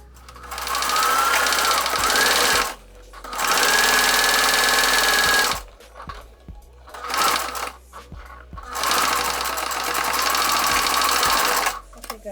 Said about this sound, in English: Then you'll just take that to the sewing machine and sew on top.